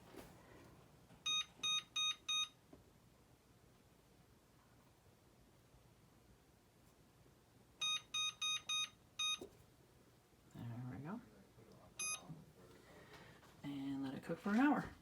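A kitchen oven timer beeps in quick bursts of four high, clear tones, repeating three times at moderate volume, while someone talks quietly in between.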